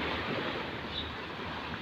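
Fairly strong sea waves wash steadily near a fishing area under overcast skies, a continuous faint surf rush mixed with wind, with no voices.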